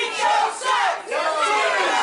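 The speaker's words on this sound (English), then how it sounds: "Crowd letting Chico know what they think of him yet again" A pro wrestling crowd jeers a heel during a 30-minute iron man heavyweight match, loud sustained booing and shouting from a packed audience that swells and dips in waves, filling the space without commentary.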